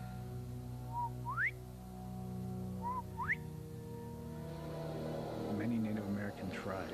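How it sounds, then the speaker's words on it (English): A bird-calling whistle sounds twice, each call a short low note that sweeps sharply upward, set against a steady hum with faint voices and rustling toward the end. "David says his bird calling whistle attracts the skunk ape."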